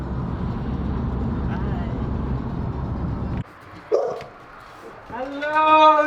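A pet dog whimpers and gives a short yip close by after a stretch of car cabin rumble, ending in a rising, tonal whine.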